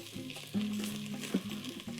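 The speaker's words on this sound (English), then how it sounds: "now you're just gonna wanna mix all that so that the flour can get incorporated" Flour being stirred into melted butter in a pan for a meatless pot pie, a soft sizzle with scraping stir strokes, quiet and close, no talking.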